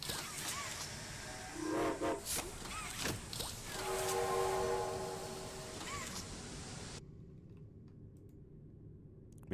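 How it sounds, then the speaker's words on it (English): A steam train whistle in the video game Poppy Playtime Chapter 2 shrieks in short hissing bursts, then holds a longer steady tone before cutting off abruptly into quiet. "Make sure to pull the chain whistle and handle before departure."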